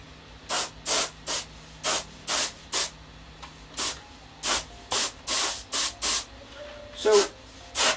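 Single-action airbrush spraying paint onto ceramics in about fourteen short, regular hissing bursts separated by brief pauses, close and fairly loud, with a faint low background hum.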